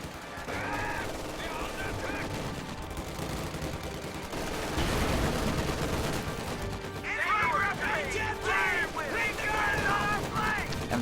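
Small arms gunfire crackles through a strategy video game battle against a vehicle, a continuous busy mix of scattered shots and combat noise with a louder, denser stretch in the middle and toward the end.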